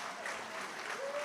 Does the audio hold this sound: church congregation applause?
yes